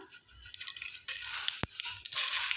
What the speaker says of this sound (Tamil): ஐயோ நிறைய கடுகு இதெல்லாம் ஒவ்வொரு பொரிஞ்சிருக்கு